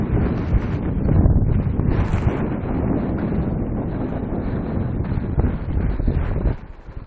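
Strong wind gusts batter a small fishing boat, roaring steadily into the microphone for several seconds before easing abruptly near the end.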